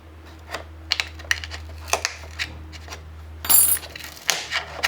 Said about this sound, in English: We'll just cut along the groove.